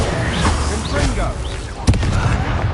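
A Confringo blasting spell explodes with a sharp bang in Hogwarts Legacy, a brief burst amid busy combat sounds and voices.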